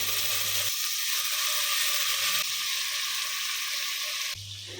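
Washed rice frying in ghee with cardamom for sweet pongal in a pressure cooker, giving a loud, steady broadband sizzle throughout. A low hum drops out partway, and no one speaks.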